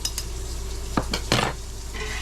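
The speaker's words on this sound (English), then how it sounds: "take a butter knife and just poke down the sides, make sure there's no air bubbles" A butter knife pokes down the inside walls of a glass canning jar packed with corn and hot water, giving two or three short scraping clinks against the glass over a steady low hum.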